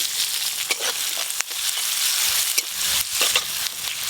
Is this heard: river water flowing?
no